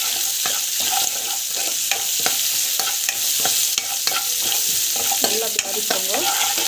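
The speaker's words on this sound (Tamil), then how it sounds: "நல்லா அப்படி வதக்கிக்கோங்க." Onions, curry leaves, asafoetida and rock salt sautéing in hot oil, with steady sizzling and repeated scraping stirs of a spoon against the pan.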